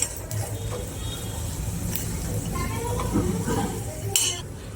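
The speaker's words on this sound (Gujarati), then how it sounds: "મખાણા આપણે રોસ્ટ કરી લઈશું" Makhana (fox nuts) are stirred and roasted in a pan over a slow gas flame, giving light scraping, rattling and soft clinks close by, with faint sizzling underneath.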